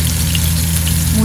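A slice of eggplant frying in hot oil gives a steady, close sizzle that runs through the whole brief moment without a break.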